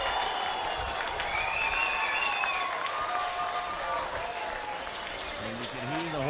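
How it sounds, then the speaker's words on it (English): Hamilton Hawks supporters applaud and cheer after a try at a rugby league colts grand final, a broad crowd roar with clapping, whistles and shouts across the ground, while a commentator's voice runs over it. "And you can hear the Hawks crowd."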